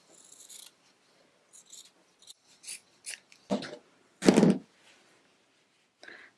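Scissors trimming quilt binding fabric, a series of short separate snips and rustles with a louder crunchy cut near the end, close and alone in a quiet room.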